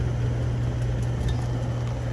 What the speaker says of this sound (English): Sorry about the fan, it's hot.